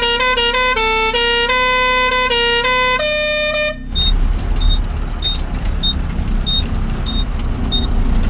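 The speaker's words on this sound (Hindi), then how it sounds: "हॉर्न मार लीजिए एक बार।" A modified truck's musical air horn blasts a rapid, melodic run of stacked tones for about four seconds, loud and close. Then a rumbling diesel engine takes over, with faint repeating beeps above it.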